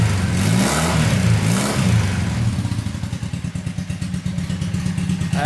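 Honda trike engine idling and revving after its carburetor was cleaned, close and loud. The note swells through a couple of throttle blips, then settles into a choppy, pulsing idle with mechanical clatter.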